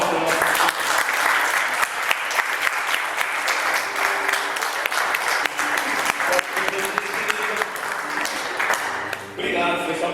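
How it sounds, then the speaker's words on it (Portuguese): A congregation at a church revival meeting claps steadily for about ten seconds, a dense and loud wash of hands that eases off near the end. "Dá uma salva de palmas para nós."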